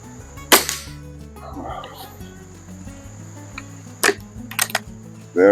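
A Webley Longbow air rifle fires at a target 25 yards away, making a quiet, sharp snap followed by fainter clicks and handling noises, close by over a low steady background hum.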